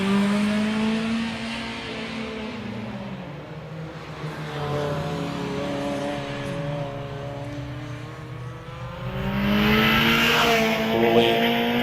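A Ferrari 328 race car accelerates hard at a British hillclimb at Harewood, its engine note rising and falling through gear changes for a sustained, loud stretch, getting louder again near the end as it powers uphill.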